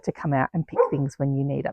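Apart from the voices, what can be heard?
dogs barking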